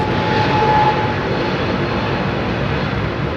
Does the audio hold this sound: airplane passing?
yes